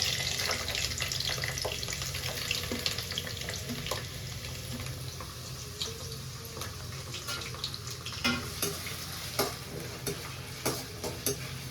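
Chopped onions, two medium ones, frying in oil in a pan for a chicken gravy: steady loud sizzle throughout with intermittent stirring scrapes and clicks toward the end, no talking.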